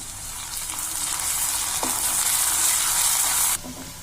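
Ginger garlic paste sizzles and fries in a hot pan while cooking palak paneer, a steady, bright crackling hiss that fills the clip with a brief stir near the end, then drops sharply as the heat eases.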